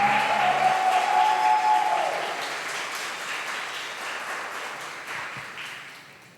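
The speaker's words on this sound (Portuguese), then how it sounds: "Eu quero chamar o Tiago para cá, que você aplaude o Senhor pela vida dele." A church congregation applauds loudly and steadily, the clapping fading gradually toward the end.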